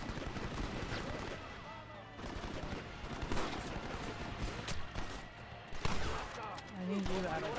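Gunfire crackles through a Red Dead Redemption battle, with scattered shots and rattling bursts mixed with a talking voice.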